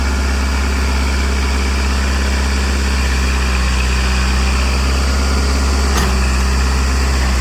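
A tractor engine with a double clutch runs at 2200 rpm in low first gear, producing a loud, close, steady droning hum with deep vibration that holds unchanged throughout, with no talking.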